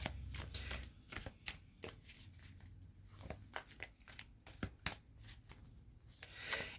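A deck of tarot cards is shuffled by hand, giving faint, close riffles and soft papery slaps in irregular bursts with no talking.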